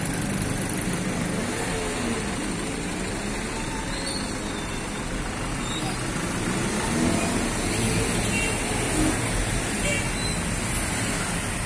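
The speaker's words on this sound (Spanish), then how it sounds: "Está entrando pues el carro fúnebre." A hearse engine hums as the vehicle pulls into the San José cemetery in Siloé, Colombia, for an afternoon burial. The roadway rumble is steady and close, with faint voices mixed in.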